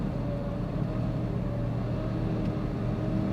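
A large vehicle carrying machinery rumbles past on the road, a steady low engine drone heard from inside a car, fairly quiet and continuous without talk.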